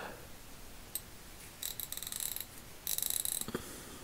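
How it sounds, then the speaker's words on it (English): Harbor Freight Icon 90-tooth 3/8-inch drive ratchet with a slightly stiff mechanism, clicking in several short close bursts of fine rapid ticks over a steady background hiss. "Feels pretty good. The ratcheting a little stiff"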